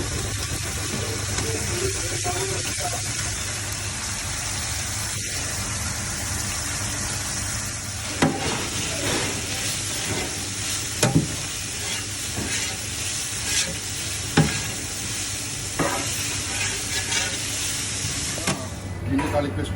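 Onions and ginger garlic paste sizzle steadily in a pan for beef rendang, with scraping stirs and clanks of a spoon against the pan. A voice speaks now and then over the frying.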